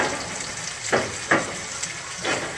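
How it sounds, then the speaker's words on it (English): White wine splashes into a hot pan with butter where mackerel was seared, giving a steady sizzle with three short hissing bursts as the liquid hits. "I'm going to deglaze this with a little bit of white wine"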